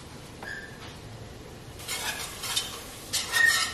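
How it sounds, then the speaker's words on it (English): Mac and cheese sauce being stirred in a pot, a few scraping, swishing passes that grow louder in bursts toward the end, with a faint clink early on and no talk. "It's going to be a lot of stirring."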